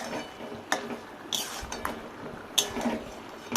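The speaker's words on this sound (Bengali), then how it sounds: "এই সব উপকরণ আমি খুব ভালো করে নাড়াচাড়া করে নিচ্ছি" Beef and spices are stirred in a pot for beef bhuna, with scraping and several sharp metallic clinks of the spoon against the pot's sides, irregular and close.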